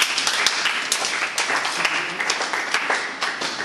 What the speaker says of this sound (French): On peut acclamer pour eux.